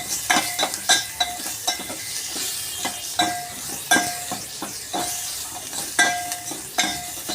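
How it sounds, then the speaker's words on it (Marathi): Garlic sizzles in hot oil with bay leaf, cinnamon, black pepper and cloves while a spoon stirs it, making rhythmic scraping strokes against the pan over a steady frying crackle, close up and with no talking. "थोडासा लसणाचा कच्चेपणा कमी होईपर्यंत याला असंच आपण परतवून घेणार आहे"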